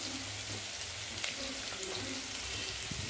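Chopped onion and dilpasand vegetable sauté together in a pan over medium-low gas, giving a soft, steady sizzle with a faint low hum underneath.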